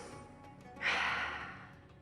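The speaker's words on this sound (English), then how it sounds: "Take a breath in and out." Children sit cross-legged with eyes closed in a kids' Bible lesson and take a single slow breath, a soft airy exhale swelling midway and fading gently, close and quiet.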